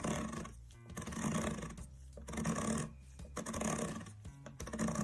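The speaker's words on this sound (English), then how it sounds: "And it is a clicking mechanism." A FUGU tattoo foot pedal's clicking mechanism is worked repeatedly, giving faint rasping clicks in uneven bursts against a steady background noise, with no talk.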